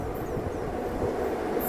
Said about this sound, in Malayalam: നമ്മുടെ 1-ാമത്തെ പ്ലാറ്റ്ഫോമിലേക്ക് ഇപ്പോൾ എത്തിച്ചേരുന്ന ഒരു വണ്ടി എന്ന് പറയുന്നത് ഷൊർണൂർ സ്പെഷ്യൽ എക്സ്പ്രസ് ആണ്